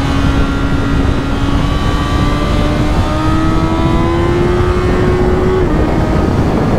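Suzuki GSX-S 1000 World Edition motorcycle engine pulling hard under acceleration, a loud, rising drone that climbs steadily through the gear before easing off, heard close with heavy wind rush and no talk.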